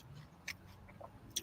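Food with horseradish sauce and Arby's sauce is being chewed softly near the mic in a quiet room, with a few sharper crunchy bites standing out.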